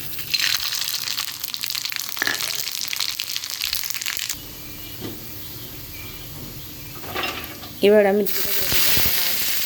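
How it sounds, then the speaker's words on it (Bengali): Dried red chillies and black mustard seeds hitting hot mustard oil, a loud crackling sizzle with bursts of spattering and stirring, fading to a softer hiss before a sharp renewed sizzle near the end, with a brief spoken word. "এবার আমি ফোড়ন দিয়ে দেব শুকনো লঙ্কা আর কালো সর্ষে"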